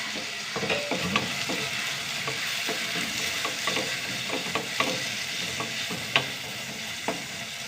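Tomatoes and green chilies sautéing in a pan: a continuous close sizzle broken by scattered taps and scrapes of a spoon stirring.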